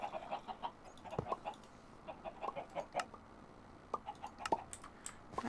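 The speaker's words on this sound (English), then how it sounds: "I think our emerald chicken." An emerald chicken in the Minecraft modpack Sky Factory 3 clucks quietly in a run of short, repeated, bursty calls, alone without talk.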